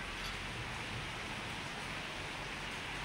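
Heavy rain pours as a dense, constant hiss, steady and unbroken, with no voices or other sounds standing out.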